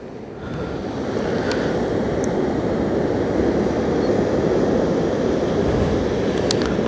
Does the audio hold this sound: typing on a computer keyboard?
no